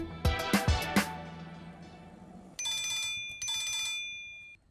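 A phone's ringback tone during an outgoing call, a steady electronic ring pattern that sounds twice in a row after a few soft knocks and handling noises, fairly close and with no talk over it.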